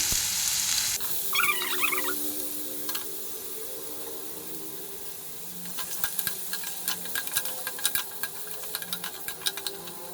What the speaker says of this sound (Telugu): ఇది కొంచెం సేపు ఫ్రై అవ్వాలి ఆయిల్లో